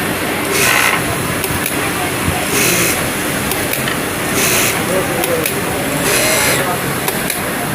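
A Brother S-7250A sewing machine runs in a steady, fast mechanical chatter with rhythmic surges, close and fairly loud, while a person talks over it.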